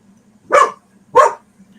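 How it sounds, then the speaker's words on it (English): Two sharp barks from a dog in a home, spaced about half a second apart, fairly close and loud over a low steady hum. "dogs barking."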